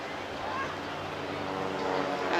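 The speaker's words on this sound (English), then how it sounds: "Now you can hear as they pull up the roar of that 180 horsepower engine." A 180 horsepower aerobatic aircraft engine roars at a beach airshow as the plane pulls up, a steady broad drone that swells slightly toward the end, heard from a distance in open air.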